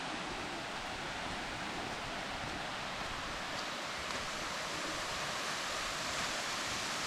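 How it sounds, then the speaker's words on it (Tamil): A waterfall in a teak forest during heavy rain gives a constant, dense roar of rushing water, heard steady and alone throughout. "இந்த தண்ணி சவுண்டு தான்"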